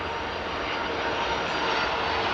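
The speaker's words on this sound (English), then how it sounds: "Virgin Atlantic, first arrival for Christmas Day." Virgin Atlantic airliner landing at Heathrow Airport on Christmas Day in blizzard conditions, with a loud, steady engine roar and rushing air that hold evenly and up close throughout.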